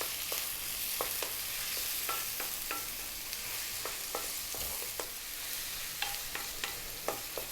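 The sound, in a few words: stir-frying thin-cut sausage and ginger on high heat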